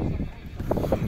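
Horse neighing at a horse market in Sokuluk, Chuy, with short whinnies rising twice near the end over crowded background murmur and voices.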